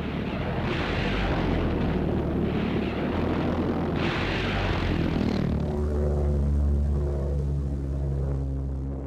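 A V-1 flying bomb passes overhead in flight, its engine a loud, continuous droning roar with a rough pulsing buzz that holds steady throughout, alone with no voices.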